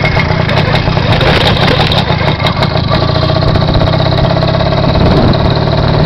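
A 49cc motorized bicycle engine on a rat-style motor bike runs steadily and loudly close by, a continuous buzzing drone with no pauses.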